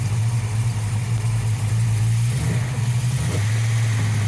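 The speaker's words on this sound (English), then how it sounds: "Let me just rev it up, see what happens." Ford Mustang engine with low boost pressure, revved close up: a steady loud idle drone that rises briefly in a couple of throttle blips before settling back.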